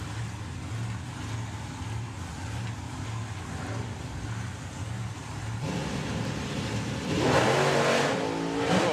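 Drag racing cars, among them Mark Bailey's Cuda, launch at the FIA Main Event; a low, pulsing engine drone grows into a louder, harsh roar in the final seconds, heard from a distance.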